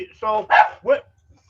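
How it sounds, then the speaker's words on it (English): Three sharp dog barks in quick succession, fairly close and clear, each a short harmonic yelp against an otherwise quiet background. "freaking dogs."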